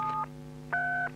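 Touch-tone keypad of a TA2000 alarm telephone, two clear dual-tone beeps, one short and one longer after a brief pause, over a steady low hum, with no speech.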